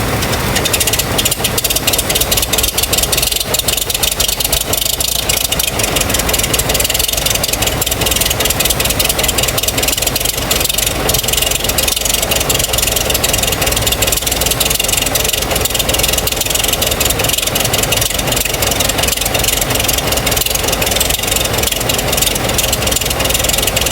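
A freshly overhauled Case 830 tractor's diesel engine fires up on a cold day and keeps running, a loud, constant rough roar and rattle that holds steady with no pauses.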